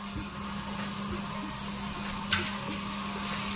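Garlic sauce and tomato ketchup being mixed in a hot frying pan for chicken mayo cheese pasta: a steady, even sizzle over a constant low hum, with one brief sharp scrape partway through and no talking.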